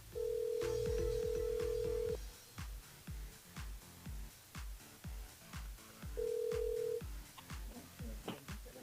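A telephone line on a radio show rings with a steady electronic tone, a long ring followed later by a shorter one. A rhythmic musical beat runs underneath at moderate volume.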